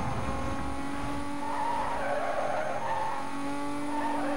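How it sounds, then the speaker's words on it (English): A tuned Toyota Supra races in Need for Speed Most Wanted, its engine droning steadily while tires squeal and skid through a fast turn, loud and continuous with no voices. "This little Supra's got a new sound to her."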